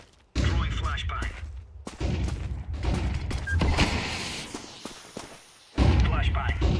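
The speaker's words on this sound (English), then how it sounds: "Throwing flashbang." A flashbang grenade thrown in a video game, sharp bursts and thuds cutting in over a gunfire-filled mix, with a player talking over the action.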